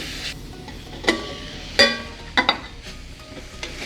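Grated coconut roasts in a pan for carrot sambal. A spoon stirs and scrapes in a few distinct strokes with light metallic clinks over a soft sizzle, close up.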